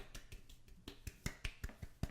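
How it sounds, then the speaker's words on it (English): Soft hand clapping during an ASMR roleplay of a shower poetry society gathering: about a dozen light, uneven claps from one person, close and quiet, with no talking. "they're happening right now because I'm clapping my hands"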